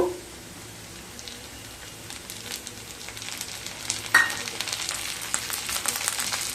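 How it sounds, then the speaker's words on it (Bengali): Chopped tomato just added to hot oil with fried onion and garlic, sizzling and frying steadily in a pan, with a brief clatter near the middle and the sizzle growing a little louder toward the end; no talking. "টমেটো দিয়ে আরও কিছুক্ষণ রান্না করে নেবো"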